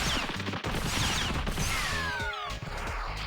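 Rapid twin-pistol gunfire from the online game Phantasy Star Online, a dense burst of electronic shots layered with game effects and whooshing tones, loud and continuous without any talk.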